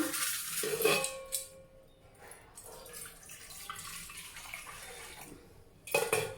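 Black-eyed peas are rinsed by hand in a pot of water for vada batter, with swishing water and light clinks. Louder bursts of sloshing come at the start and again near the end, with quieter stirring between.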